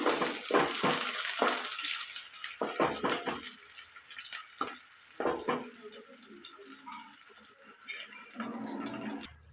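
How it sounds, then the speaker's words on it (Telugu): Onions frying in a pan with green chillies give a loud, continuous sizzle, close by, with a few stirring scrapes near the start and no voices. "ఉల్లిపాయలు ఎలా ఫ్రై అవుతున్నాయి కదండి"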